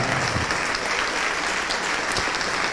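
A church congregation applauding at a sermon, producing a steady, loud wash of many hands clapping continuously throughout, with no break.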